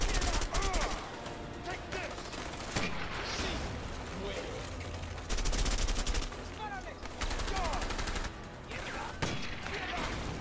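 Repeated gunfire in the video game A Way Out, crackling in quick bursts and short volleys over about ten seconds, with voices and game noise underneath.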